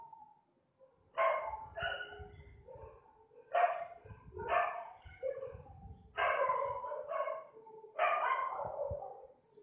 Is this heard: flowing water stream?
no